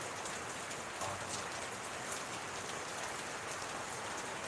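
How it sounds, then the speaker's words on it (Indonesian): Steady heavy rain pours down outdoors where people are sheltering, a dense continuous hiss of drops hitting surfaces with no pauses and no one speaking over it. "Ini hujan tuh. Di sini hujan."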